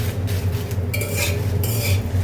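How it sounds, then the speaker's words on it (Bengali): Dried chillies crackle and scrape in a pan as they are stirred, a close, busy rustle with a steady low hum underneath. "শুকনো মরিচ ভেজে নিচ্ছি"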